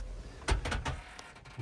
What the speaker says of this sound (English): I'm wondering if I close this door